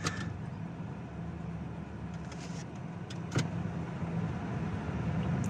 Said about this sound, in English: It does a little bit of a fluttery stumble there.